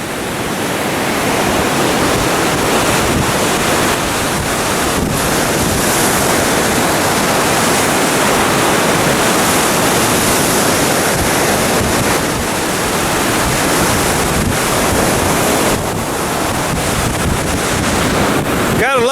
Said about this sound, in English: Gotta love these big waves.